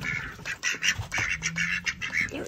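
Several ducks kept as a neighbor's backyard pets quack in short, repeated bursts that seem to take turns, moderately close, with no talking over them.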